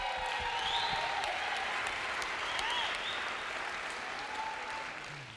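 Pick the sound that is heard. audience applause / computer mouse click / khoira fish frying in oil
audience applause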